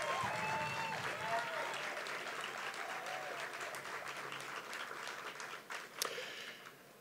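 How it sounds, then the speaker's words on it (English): A crowd at a Habitat for Humanity home dedication gives a round of applause honoring Chester and Corinne Gooden, soft, distant-sounding clapping with faint voices mixed in, tapering slightly toward the end. "I'd like to ask all of you to join me in a round of applause in honoring Chester and Corinne Gooden"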